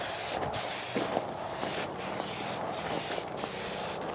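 Aerosol paint sprays steadily onto a Suzuki Bandit 1250 FA motorcycle part, a continuous close hiss with a few short breaks as the nozzle is released and pressed again.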